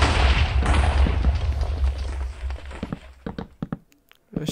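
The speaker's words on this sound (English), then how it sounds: "Oh, I'm getting shot at." Gunfire and booming impacts in the VR game Overcast on the Interitus map, a dense rumbling barrage that thins into scattered sharp pops and thumps toward the end.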